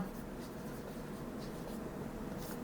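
Pen or chalk writing steadily through a geometry proof lesson, a soft continuous scratching under a constant room hiss, with a teacher's voice present faintly in the background.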